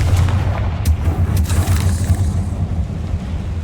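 Confringo blasting spell explosions in the Hogwarts Legacy video game: two sharp bursts over a constant loud low rumble, close and forceful, with no voices.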